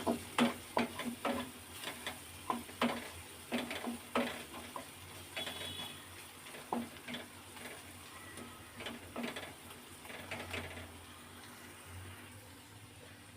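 Spices with coriander powder stirred in a pan, a series of rhythmic scraping strokes over a soft sizzle, loud at first and fading to gentler stirring.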